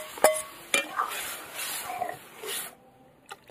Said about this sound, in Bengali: তো এবার আমি ডাল দিয়ে দেবো এর মধ্যে, একদম নাড়তে নাড়তে